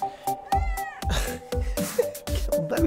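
An indoor house cat meows repeatedly, giving several short, insistent cries at close range, with brief gasp-like sounds between them.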